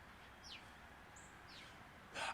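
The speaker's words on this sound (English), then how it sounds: "I'm looking at a bird right now." Faint bird chirps heard outdoors beneath a pavilion, a few short descending calls spread across the moment over a quiet background, followed by a brief burst of louder noise at the end.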